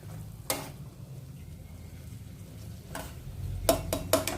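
Prawn kachoris frying in hot oil give a faint, steady sizzle at moderate distance, with a few sharp clinks or stirring clatters spaced through the clip and no talking.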